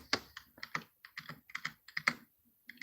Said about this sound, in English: Let me type in Google